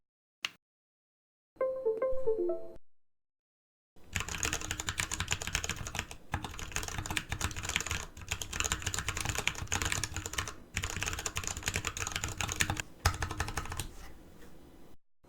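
Typing on a Massdrop ALT keyboard built with Cherry Brown switches: after a brief tone, a dense, steady run of close tactile key clacks continues with a few short pauses.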